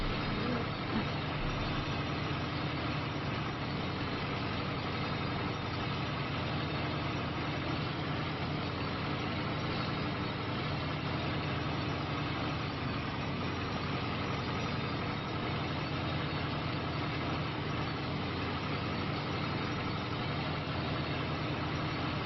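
A crawler tractor idles steadily in Farming Simulator 25, a continuous low engine drone that holds at one level throughout with no revving or change in pitch.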